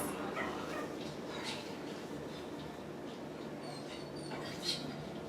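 A dog in a TV show gives short yips, barks and whimpers, faint and scattered over a low background murmur.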